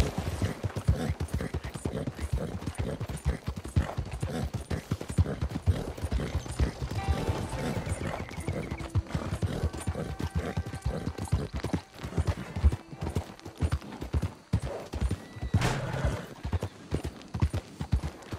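Horse hooves galloping in Red Dead Redemption 2 on PS4, a rapid, continuous clip-clop drumming close by for the whole stretch, with a brief neigh and faint gunfire in the background.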